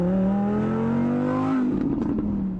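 An Audi R8 Spider's naturally aspirated V10 engine revs up loud and close, its pitch climbing steadily for about a second and a half before dropping off sharply into a rough, crackling overrun.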